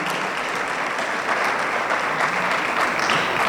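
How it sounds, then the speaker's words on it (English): University campus audience gives a steady round of applause for the business school dean, dense and even throughout, with a few sharper claps standing out. "you need to give a round of applause to your dean of your business school"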